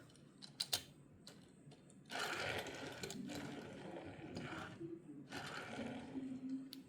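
A Hot Wheels 2015 Jaguar F-Type Project 7 die-cast toy car rolls along a surface, a steady close rattling whir after a few sharp handling clicks, with slightly wobbly wheels.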